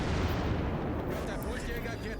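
Guns of the warship Munchen firing in World of Warships Legends make a dense, continuous low thunder of blasts that fills the whole short stretch at moderate loudness.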